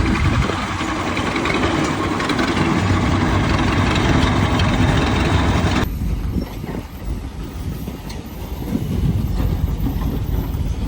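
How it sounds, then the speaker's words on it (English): An old Ford engine, fitted with a small one-barrel carburetor and used as a power plant, runs steadily at an antique tractor show, a loud continuous rumble that drops slightly in level partway through. "Old Ford engine used as a power plant."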